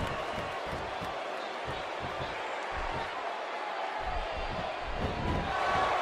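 Arena crowd in the WWE 2K16 wrestling video game, a steady roaring cheer that swells slightly toward the end, with commentary voices talking over it.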